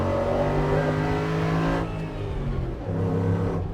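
A restored and modified Ford Bronco's 5-liter engine revs hard through a slightly quieter Borla exhaust. The loud, steady roar eases briefly in the middle, then builds again, with no talk over it.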